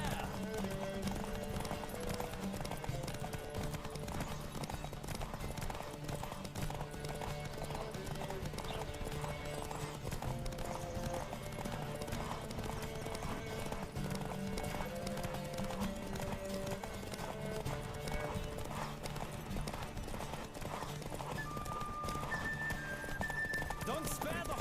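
Rapid galloping hoofbeats in The Witcher 3: Wild Hunt pound steadily under a bed of music, with a horse whinnying now and then and voices at times.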